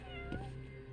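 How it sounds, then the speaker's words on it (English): A cat meows once in the video game Judgment, a short, faint call over a soft steady background hum. "What a meow."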